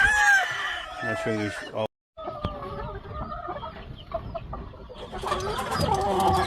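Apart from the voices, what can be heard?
Cardinal Club gamefowl chickens clucking and crowing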